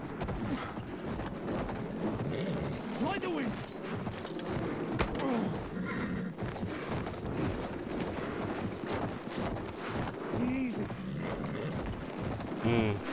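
Hooves clip-clop rhythmically as a horse gallops in the Battlefield 1 video game, layered with gunfire, distant battle noise and a player's voice talking over the action.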